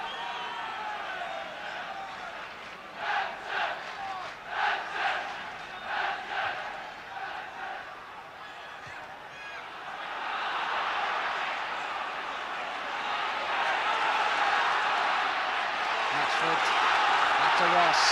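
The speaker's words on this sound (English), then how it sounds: "The crowd beginning to urge Everton forward." Football crowd at Everton's 1979 home match against Bristol City urging the team forward: rhythmic pulses of chanting give way to a swelling, sustained roar under match commentary.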